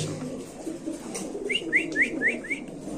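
Pigeons, including Kaldom breeds, at a bird seller's stall in a busy market, giving a short run of about five rising coos and calls at moderate distance over a steady low background murmur.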